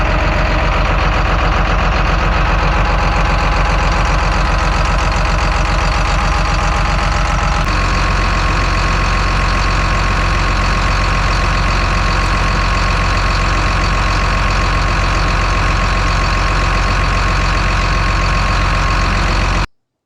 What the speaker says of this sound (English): let me know if you can hear the difference in the engine from before to after